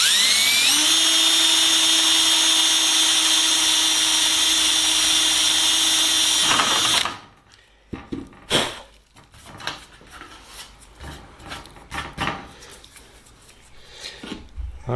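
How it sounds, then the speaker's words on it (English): A high-pitched power drill whines steadily for about seven seconds with a number 40 bit boring through an aircraft rear spar in a Sonex build, then stops, leaving scattered handling clatter and knocks. "Alright, got all of our holes drilled up to the 3/32. Our number 40 drill bit."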